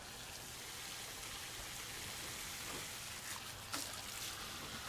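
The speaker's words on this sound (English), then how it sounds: "turn the water on." Water rushes through an RV sewage tank rinse line in a steady, faint hiss that holds without a break, with a brief splashy surge near the end.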